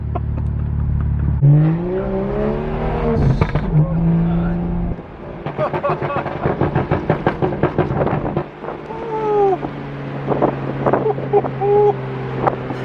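A BMW 335i accelerates hard in a second gear roll, its engine rising in pitch up through the revs, then a shift and chattering exhaust with wind buffeting, loud and close from inside the car.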